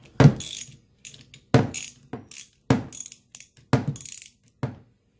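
A hand ratchet loosens bolts on a trolling motor, giving about five close bursts of rapid metallic clicking, each followed by a quick tick or two, with quiet gaps between.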